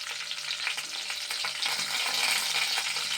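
Curry leaves sizzle and crackle loudly in hot oil in a pan, a steady bright hiss with small popping bursts throughout and no voices.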